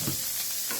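Onion goes into garlic frying in pork fat in a pan, a steady loud hiss of sizzling oil with a brief stirring scrape, close and continuous.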